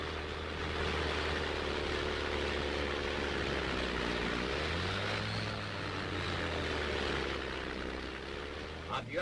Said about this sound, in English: Avioanele decolează spre a întâmpina inanicul.